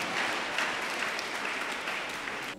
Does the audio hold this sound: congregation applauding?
yes